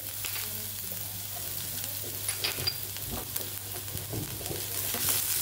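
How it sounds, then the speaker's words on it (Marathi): Vegetables with grated ginger and chopped chili frying in about two spoons of oil, a steady close sizzle with scattered crackles and stirring scrapes throughout, no voices. "कमी तेलामध्ये अगदी 2 चमचे तेलामध्ये भाजी परतून घ्यायची आपल्याला"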